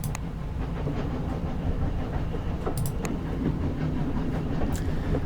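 A train in the video game 80 Days rumbles steadily along the tracks, a continuous loud low roar with faint clicking and occasional hissing bursts, no voices.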